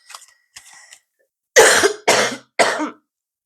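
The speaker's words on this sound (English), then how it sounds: "I'm sorry for the coughing, guys." Close, loud coughing from a tickle in the throat: a couple of faint throat clears, then three harsh coughs in quick succession.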